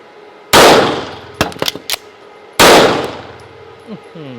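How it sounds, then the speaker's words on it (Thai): Two loud, close pistol shots from a CZ Shadow 2 on a shooting range during a reload drill, separated by a burst of metallic magazine and slide clicks. "ปั้งรีโหลดยิงอีก 2นัดเอ้ยอีก1นัด"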